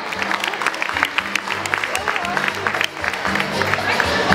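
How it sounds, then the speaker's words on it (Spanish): An audience at a secondary-school event claps for the school director, a dense, sustained round of applause with crowd voices mixed in underneath. "Pase los aplausos, por favor,"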